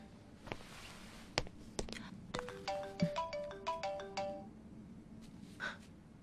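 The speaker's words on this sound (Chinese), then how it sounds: "我接个电话。" A phone ringtone plays in an office setting, a series of bright repeating electronic tones in a quick rhythmic pattern after a few sharp clicks, moderately loud and close, with no talking over it.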